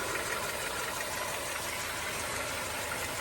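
A 1964 Ford Ranchero's engine, freshly fitted with a new ignition, idles quietly and evenly after a cold start, a soft steady hum with a faint ticking knock and no talk.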